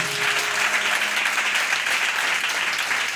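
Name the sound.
congregation applauding and cheering in church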